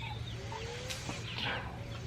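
A chicken clucks and calls softly after corn is scattered in rural North Carolina, a few short squawky notes over steady low background hum.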